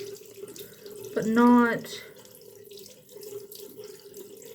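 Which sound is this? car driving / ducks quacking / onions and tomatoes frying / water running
water running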